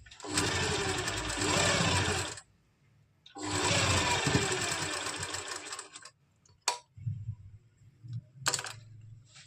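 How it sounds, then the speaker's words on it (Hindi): A sewing machine stitches the elastic casing of a salwar in two steady, loud bursts of fast needle chatter separated by a brief pause, followed by a few clicks and fabric handling sounds nearby. "अब हमने जो यहाँ पर इलास्टिक के लिए जो स्पेस छोड़ा था इसको भी हम स्टिच कर लेंगे।"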